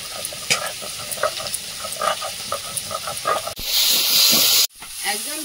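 A spice mixture sizzles and hisses while being sautéed in a pan on a home stove, with stirring scrapes and a brief louder burst of steamy hiss, and faint talk in the background.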